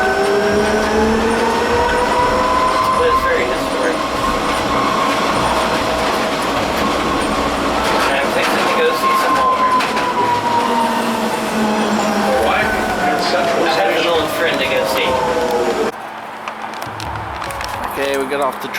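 A city tram rides into downtown with a loud, continuous rolling rumble and long rising and falling wheel squeals, while voices murmur underneath before the noise drops near the end.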